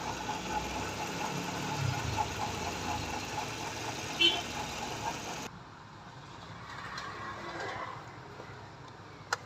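An old Hyundai Verna 1.6 petrol engine with a misfiring cylinder idles close by with a steady, slightly uneven hum that drops quieter partway through.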